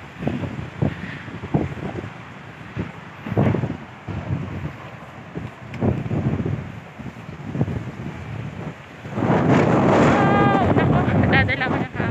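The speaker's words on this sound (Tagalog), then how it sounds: "Ang lakas ng hangin." Strong wind buffets the microphone in loud, rough gusts, with intermittent voices underneath and a harder blast toward the end.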